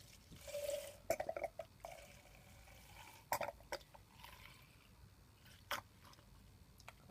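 Fresh nitro fuel poured into the tank of an HPI Trophy 3.5 nitro RC buggy, with faint liquid trickling and a few small drips and clicks of the bottle and cap, close by and quiet.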